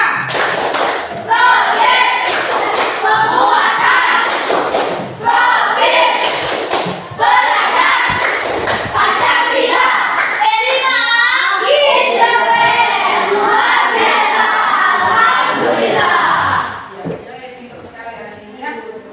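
An Indonesian class claps together in quick rhythmic bursts while children chant loudly, the group voices ringing out in a lively call-and-response pattern.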